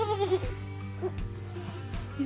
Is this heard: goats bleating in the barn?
yes